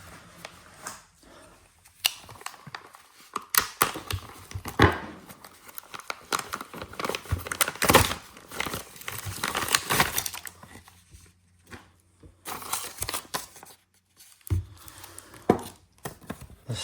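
Sealed plastic packaging around a TOPS knife being cut and torn open up close, with irregular crinkling, rustling and sharp snipping sounds that come in bursts separated by brief pauses.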